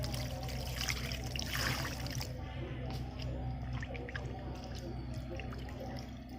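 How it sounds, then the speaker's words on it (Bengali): Water trickles and pours over freshly made chhana (cottage cheese) being rinsed for rosogolla, a soft continuous splashing stream close by that is steady throughout over faint background hum. "তো এবার এই ছানাটাকে বন্ধুরা জল দিয়ে খুব ভালো করে ধুয়ে নেব।"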